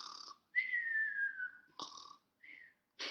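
Children imitate snoring with a few short, breathy, whistling vocal snorts and drawn-out wheezes separated by brief pauses, faint and close, with no other talk.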